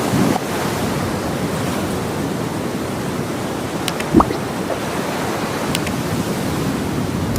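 Ocean waves wash onto the beach at Talaan, Sariaya, a steady, loud surf roar mixed with wind buffeting the microphone. A few faint clicks and knocks are heard, with no talking.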